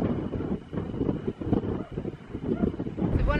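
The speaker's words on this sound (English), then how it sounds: "I just wish this wind would die down a bit" Strong wind buffets the microphone on a hill walk near Redruth in Cornwall, a dense rumbling roar with gusty swells that runs throughout, close and loud.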